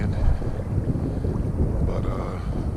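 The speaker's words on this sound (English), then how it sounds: "there's nothing I can really do about that wind." Strong wind buffets the microphone beside the Trinity River in Fort Worth, Texas, a continuous loud low roar and rumble with no pauses and no talking.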